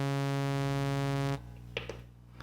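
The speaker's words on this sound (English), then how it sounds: "the A part of the oscillator sounds like this" Sustained bright, harmonic-rich tone from the A oscillator layer of a Korg ModWave MK2 synthesizer, held steadily for over a second before stopping, followed by a few faint clicks.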